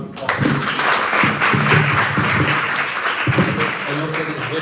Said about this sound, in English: if everyone give him a round of applause